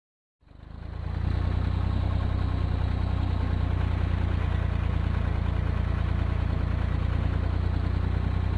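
Tractor engine idling steadily, a loud continuous low rumble that starts abruptly and holds an even drone with no talk.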